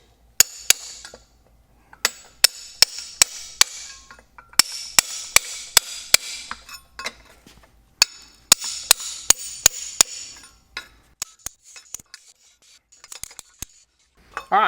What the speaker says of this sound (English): we've packed the oakum all the way around